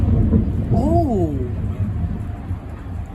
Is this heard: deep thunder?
yes